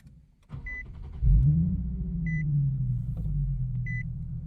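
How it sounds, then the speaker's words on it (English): A Nissan 370Z starts up: a short motor whir precedes the engine catching with a loud low rumble, which settles into a steady idle. Three brief electronic beeps chime at intervals over it. "Let me turn this car on here."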